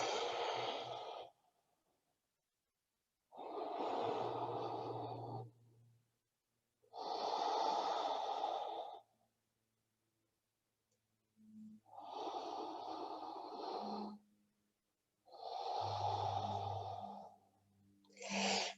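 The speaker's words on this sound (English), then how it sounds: "Take a few breaths." Slow, deep breathing during a yoga forward fold, with five or six long, close, airy inhales and exhales separated by short silences, some carrying a faint nasal rasp.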